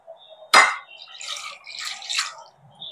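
Whey drained from hung yogurt for shrikhand pours off in a short splash followed by soft dripping and trickling, close and quiet, with no talk.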